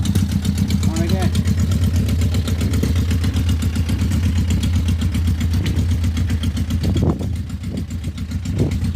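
Yamaha motorcycle with aftermarket Delkevic exhaust idling close by, a loud steady low rumbling pulse that drops slightly near the end, with a voice briefly speaking over it.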